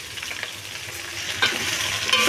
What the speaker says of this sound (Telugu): ఈ సొరకాయ చెక్కు తీసిన సొరకాయ ముక్కలు ఉన్నాయి కదా ఇవన్నీ వేసేసుకోండి ముక్కలు కూడా వేసేసుకోండి మొత్తం టమాటాలు ఇవి కూడా అన్నీ వేసేసుకొని కలుపుకోండి